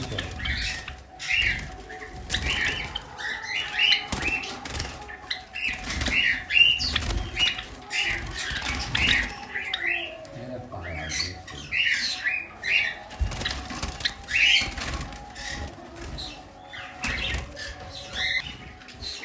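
Java sparrows flap their wings and squawk repeatedly, making continuous fluttering, chirping bird noise in a close indoor setting, with occasional faint voices.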